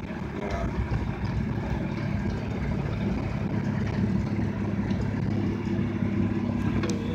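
A 1963 Ford Falcon engine idles steadily with its choke still partly pulled, a continuous low rumble held close and even for the whole stretch with no voices.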